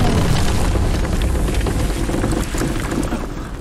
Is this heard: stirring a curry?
no